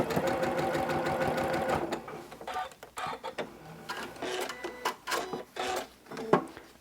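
A sewing machine stitches quilt fabric strips with right sides together, running in a fast, steady mechanical rattle up close, then slowing into short bursts and pauses.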